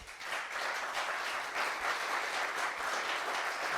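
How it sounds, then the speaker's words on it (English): An audience at a fireside chat gives sustained, even applause, a dense wash of many hands clapping at a moderate distance throughout. "Please give Arjo a big round of applause."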